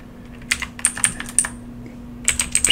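A computer keyboard typing an ssh login command to the OverTheWire Bandit server: two quick bursts of crisp, close key taps separated by a short pause, over a steady low electrical hum, with no speech.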